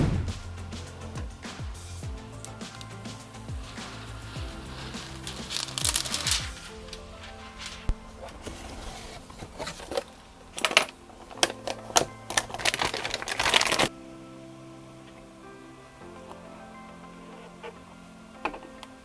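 A Kywoo3D Tycoon 3D printer, preheated and without filament loaded, runs its automatic bed leveling routine: close, busy mechanical ticking and clicking of the probe and motors, with clustered sharp taps that stop partway through, leaving quieter machine hum.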